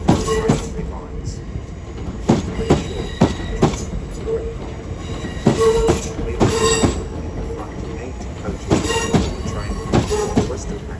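A train moves through a London rail terminus with rhythmic clickety-clack of wheels over rail joints and occasional squeals, while an announcement voice speaks in the background.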